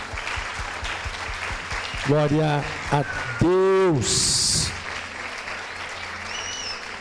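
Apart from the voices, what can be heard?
church congregation applauding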